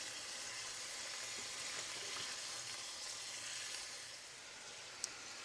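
Citrus chicken fries in a pan, a steady, even sizzle that holds at a low level throughout, close up, with one faint click near the end and no talking.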